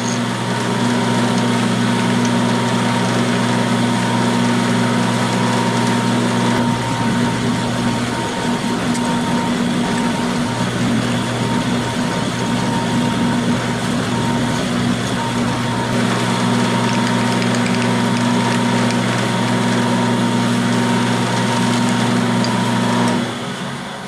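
Milling with a 1/8 inch end mill held in an ER16 collet, recutting a part for a Stuart S50 steam engine rebuild; a steady, loud machine whine with constant motor hum runs throughout, alone without talk.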